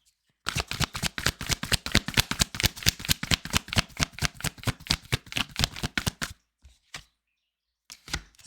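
A deck of tarot cards shuffled close up in a long run of rapid, crisp riffling snaps, quick and even, ending in a few slower scattered taps before falling quiet.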